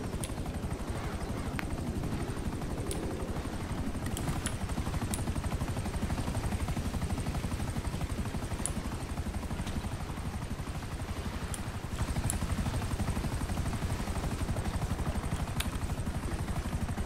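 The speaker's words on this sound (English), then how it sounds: "use the chopper" A helicopter in a video game thrums with a steady, fast rotor chop, held at an even loudness throughout, while faint sharp clicks and taps sound over it occasionally.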